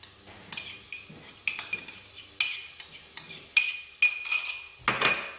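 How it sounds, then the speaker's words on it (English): Ginger and garlic being stirred in a pan while cooking chicken curry, heard as a run of clear metallic utensil scrapes and clinks against the pan in an irregular rhythm, close and moderately loud, with no talking. "And keep stirring for another minute."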